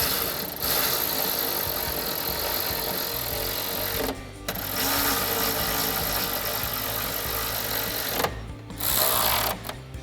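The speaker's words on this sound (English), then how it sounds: "And then we'll grab our 10mm socket to tighten all 3 of those." A ratchet with a 10mm socket drives headlight bolts, giving a continuous loud rapid clicking whir that breaks off briefly twice, close and with no voices.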